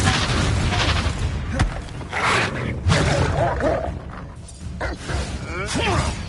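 A Confringo fire spell bursts in Hogwarts Legacy, with several booming blasts and crackling impacts within dense game action, layered under a speaking voice.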